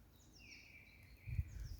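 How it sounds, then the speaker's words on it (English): Faint, fluty mistle thrush phrases drift in from a distance, a few clear whistled notes over quiet background with a low thump near the end. "I do love missel thrush song."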